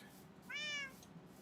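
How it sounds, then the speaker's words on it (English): A cat meows once in a Minecraft world, a single short, bright call rising and falling over a quiet background. "Our yappity kitty cat."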